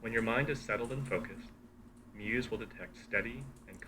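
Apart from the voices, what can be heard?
No everyday noises stand out.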